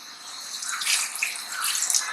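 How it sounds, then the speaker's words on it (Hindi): Hot water poured into a pot of cooking mutton dal gosht, a continuous close splashing, gushing pour lasting the full couple of seconds, with no speech over it. "ये गर्म पानी ही डालेंगे हम।"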